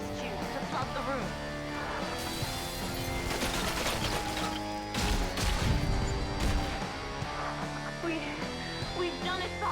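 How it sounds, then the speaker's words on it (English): Glass tubes being smashed to flood a room in Bioshock 2, heavy crashing breaks and clattering mechanical debris with a loud burst midway, set against a musical game score. "Destroy those glass tubes to flood the room."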